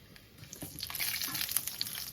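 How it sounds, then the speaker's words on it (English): Garlic cloves sizzle in hot oil over medium heat while Paneer Karahi is being cooked, a faint, close crackling hiss that grows slightly stronger, with no speech. "Now I'm adding the garlic cloves"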